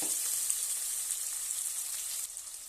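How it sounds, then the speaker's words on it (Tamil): Sliced onion and curry leaves sautéing in hot oil in a pan for a South Indian mutton gravy: a bright, continuous crackling sizzle, close and steady throughout. "ஒரு வெங்காயம் கொஞ்சம் கருவேப்பிலை கட் பண்ணி போடுறேன். இது நல்லா வதங்கி வரட்டும்."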